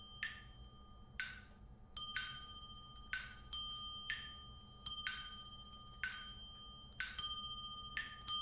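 Bell tones chime at a steady metronome-like pulse during a slow tempo practice drill, each strike bright and ringing over a low hum, repeating about once per second with occasional doubled accents.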